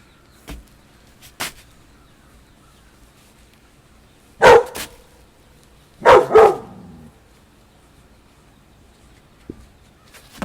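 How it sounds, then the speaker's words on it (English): Puppies give a few short barks and yips with long silent gaps between them: two faint early yelps, then two louder, close double barks, and a final small yip. "I'd like to hear them bark in the past"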